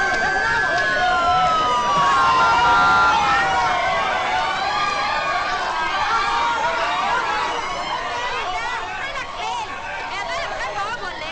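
Police car siren wailing in rising and falling sweeps over a busy street scene, with overlapping chatter and crowd voices throughout; the siren is strongest at first, then blends into the commotion.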